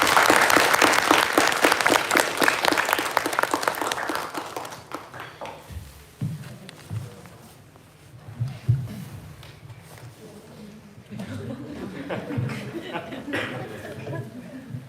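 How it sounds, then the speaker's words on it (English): Audience at a university public lecture applauding Anies Baswedan after his talk, loud clapping for about five seconds that fades into scattered claps, murmurs and a speaker's voice. "give a round of applause for Pak Anies Baswedan for his inspirational talk"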